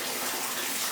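Water gushing from two sources into a large DIY aquarium, a loud, continuous bright rushing hiss with no pauses, close and dominant for its brief second.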